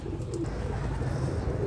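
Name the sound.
pet pigeon cooing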